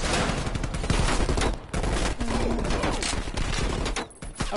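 Dense, continuous automatic gunfire and overlapping explosive shots in the Call of Duty Cold War video game, loud and sustained throughout with layered battle noise and brief dips.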